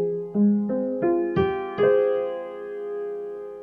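Notes from a Kontakt sampled piano instrument with the tone control turned bright, six notes climbing one by one with a crisp, ringing tone, the final note sustained and fading slowly, played alone with no talking.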